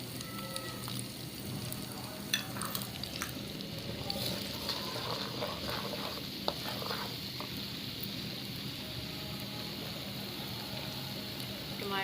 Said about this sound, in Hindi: तो 2 मिनट भूनेंगे।